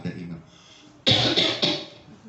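People cough during an Islamic religious lecture: faint murmuring gives way to three loud, sharp coughs in quick succession, close to the microphone.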